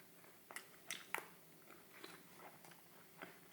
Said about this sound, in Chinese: 再吃一口饭。